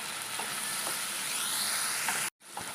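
Onions sautéed with curry leaves and turmeric in a pan for onion sambar: a steady, close frying sizzle with occasional stirring knocks, broken by a brief silent gap near the end before the sizzle resumes.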